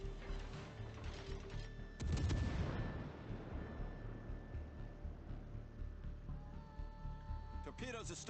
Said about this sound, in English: And Andy starts opening up on the Alabama